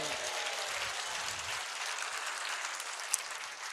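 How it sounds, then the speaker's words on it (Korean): A church congregation claps steadily throughout during a sermon, a dense, continuous wash of hands that stays level from start to finish, with one sharp clap standing out near the end. "하나님께 영광의 박수."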